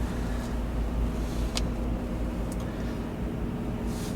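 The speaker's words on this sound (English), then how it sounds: "you can leave the engine running" A car engine left idling while parked during a driving lesson, a low steady hum with faint cabin noise and a few soft clicks, no talking.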